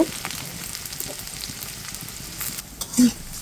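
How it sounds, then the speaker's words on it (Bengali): Plenty of onions fry in hot oil with cumin and bay leaf for a koi fish curry, a steady close sizzle with a few scrapes of stirring and a brief clink near the end. "এখন পেঁয়াজটা আমি ভালো করে একটু বাদামি কালার করে ভেজে নেব"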